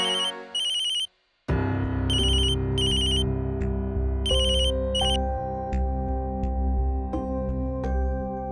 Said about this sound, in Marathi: हो जावई बापूंचा फोन आहे.